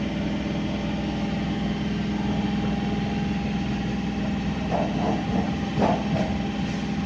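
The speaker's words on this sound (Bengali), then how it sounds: "তো এখন আমাদের ট্রেন ঢুকেছে শক্তিগড় স্টেশনে" Train rolling into Shaktigarh station near Bardhaman on a local line, a steady low rumble of engine and wheels with faint squeals and clanks rising briefly near the end as it slows.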